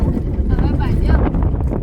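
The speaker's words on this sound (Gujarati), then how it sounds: "મારે તો વાયરો બહુ છે" Strong wind buffets the microphone outdoors on the way to Nadabet, making loud, low rumbling gusts. A voice can be heard faintly beneath the wind.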